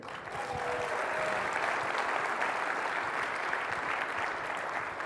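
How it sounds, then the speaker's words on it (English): A conference audience at an opening general session applauds Gary, steady broadband clapping sustained at an even level throughout with no talk over it. "how about another round of applause for Gary?"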